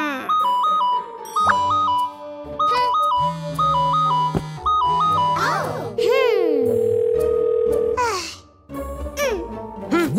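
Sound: telephone ringing unanswered in a cartoon

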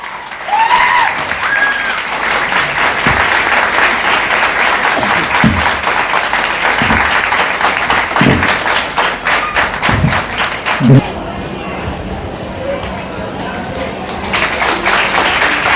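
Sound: audience applauding

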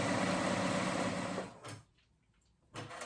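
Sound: sewing machine stitching waistband

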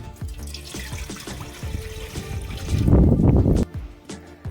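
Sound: water being poured into a cooking pot

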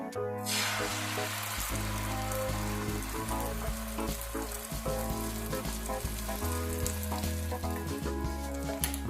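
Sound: beaten egg frying in hot mustard oil in frying pan

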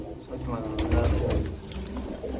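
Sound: pigeons cooing

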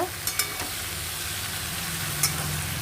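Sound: ivy gourd being stir-fried in a pan

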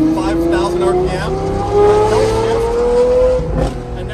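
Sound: tuned V12 supercar engine revving to 5,000 RPM

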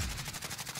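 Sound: gunfire in Warzone video game

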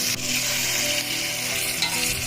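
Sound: meat and onions frying in a pan

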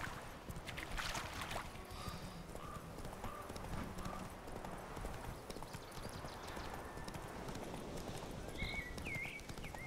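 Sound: horse Roach hooves, from video game The Witcher 3

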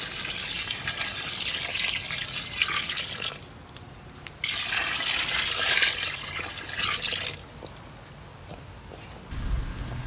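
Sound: water being poured into mutton biryani pot

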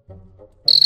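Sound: cricket chirping

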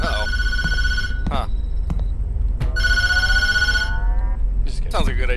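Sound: telephone ringing in the video game Tattletail

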